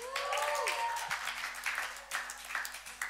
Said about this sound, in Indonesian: Ke Studio Live, tepuk tangan buat Berry Likumahua.